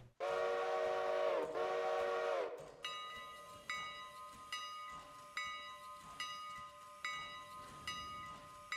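Steam locomotive in the Railroader video game pulling out with a 17-car, 883-ton freight train from a sawmill: a loud, sustained whistle blast, then steady rhythmic chuffing and hissing continuing alone.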